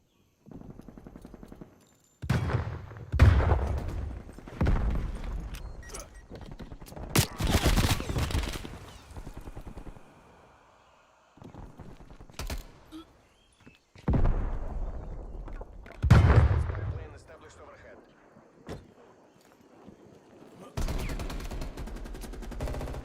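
Shotgun blasts go off in a first-person shooter game as several loud, booming bursts separated by quieter stretches, mixed with other in-game noise.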